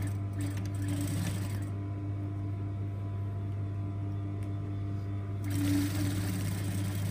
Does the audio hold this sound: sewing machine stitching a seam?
yes